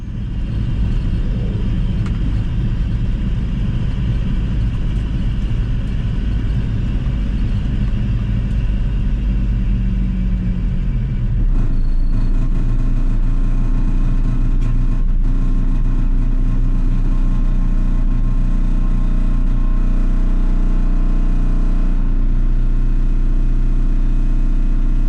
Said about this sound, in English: The annoying exhaust rattle, I'll sort that out.